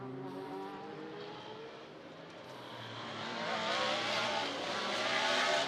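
A historic GTO-class Chevrolet Camaro race car roars along the track, its engine note swelling steadily louder as it approaches, with a sustained high-revving drone and no talk.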